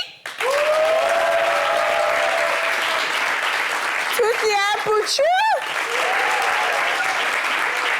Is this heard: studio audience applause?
yes